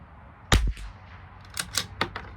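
A single sharp crack from a Bergara B14R rifle during an ammunition test at a match range, its low boom fading quickly, then a few lighter clicks and knocks nearby.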